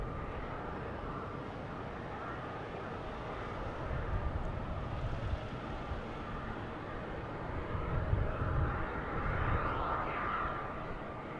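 Airplanes arriving at Boston Logan Airport, a distant broadband jet roar that swells and fades over a steady outdoor rumble, with no talk.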